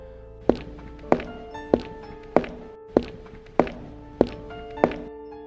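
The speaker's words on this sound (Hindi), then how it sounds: "ऊपर की मंजिल से कदमों की आवाज आने लगी।" Slow, even footsteps on an upper floor, used as a horror story sound effect: eight heavy thuds about half a second to a second apart over a low, dark ambient drone.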